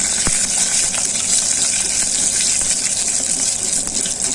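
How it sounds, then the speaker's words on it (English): Steady, loud sizzling and hissing fill the whole stretch as spices fry hard in hot mustard oil, with a faint click early on and no talking. "Now she is frying."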